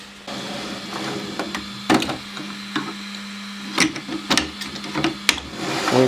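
A Robo 3D R1 3D printer runs with a steady low motor hum, broken by irregular sharp clicks and taps from the moving print head. No one speaks.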